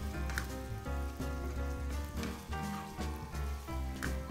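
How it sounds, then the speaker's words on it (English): Prawns and oyster sauce sizzle in a pan while being stirred, a dense crackling fry with rhythmic scraping pulses repeating every half second or so, loud and close. "Add in a tablespoon of oyster sauce and mix it well with the prawns."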